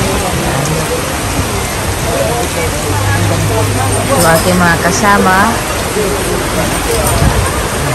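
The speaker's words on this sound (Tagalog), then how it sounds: "Ayan, ang lakas ng ulan." Heavy rain pours down at a port during a typhoon, a loud, steady hiss of drops hitting surfaces all around, while someone speaks briefly over it.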